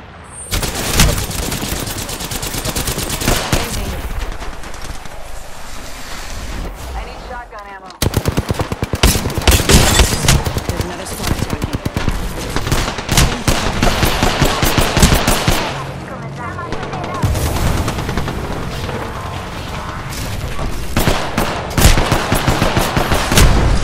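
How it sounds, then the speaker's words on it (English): Loud automatic gunfire in the video game Apex Legends, with rapid bursts and sustained volleys of shots across the clip and brief lulls between them. "Getting shot at."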